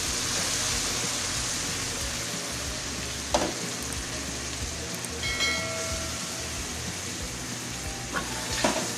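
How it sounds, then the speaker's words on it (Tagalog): Sliced mushrooms sizzle steadily in a hot pan alongside vegetables, a continuous close frying hiss with a couple of brief utensil scrapes and clinks. "Ilalagay na po natin ang ating mushroom slice"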